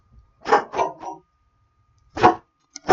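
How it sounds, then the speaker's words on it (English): A dog barks close by: three quick barks in a burst, a pause, then a single bark and the start of another, with no voices. "Sorry, the dog's barking."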